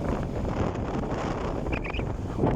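Strong wind off a rough sea buffets the microphone with a continuous, loud rumbling roar, no voices present.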